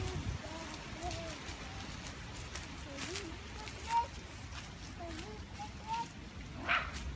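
A puppy gives faint, scattered little yips and whimpers, several short squeaks over about seven seconds, under soft outdoor noise and quiet talk.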